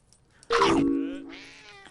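A cat in the VR video game Good Dog, Bad Dog lets out one loud, drawn-out yowling meow that starts abruptly, then trails off more softly, with no talk over it.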